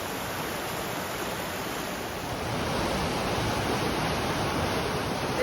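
A rushing creek runs through a tall-walled gorge at Franconia Notch, a loud, steady wash of water that swells slightly midway and continues alone.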